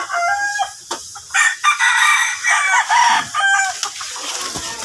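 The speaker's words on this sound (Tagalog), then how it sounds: "Halo-halo ang kanilang mga manok dito." Several chickens on a farm with many coops, a rooster crowing repeatedly among clucking hens, loud and close, with overlapping calls throughout and no talking.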